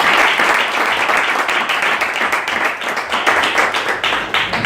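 A church congregation applauds loudly and steadily during a prophetic seminar, a dense, sustained crowd of clapping hands with no pause for several seconds.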